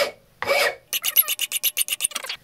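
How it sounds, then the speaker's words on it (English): A rasp works wood while a custom forging hammer handle is fitted. A short scrape comes first, then a quick run of about a dozen rhythmic, close rasping strokes. "This rasp."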